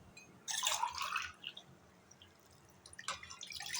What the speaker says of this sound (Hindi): 2 गिलास पानी ऐड करना है।